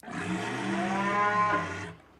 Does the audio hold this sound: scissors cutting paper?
no